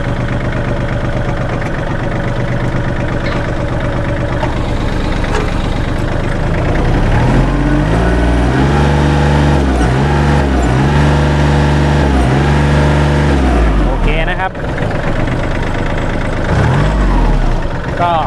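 The diesel engine of a used 2008 Kubota L3408DT tractor, recently overhauled, runs loud and close. It holds a steady idle, rises and dips in pitch through the middle, then settles again.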